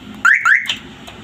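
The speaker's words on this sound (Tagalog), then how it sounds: "nakakabit na tong wiring pwede na siya pindutin alarm" A car alarm wired through a small relay gives two quick rising electronic chirps followed by a short beep, loud and close, with nothing else over it.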